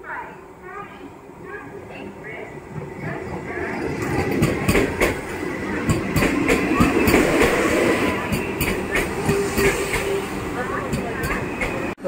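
Vande Bharat Express train on the Durg–Visakhapatnam route rolling into a station platform, a rising rumble with rhythmic clicking of wheels over rail joints, loud and close, with people talking throughout.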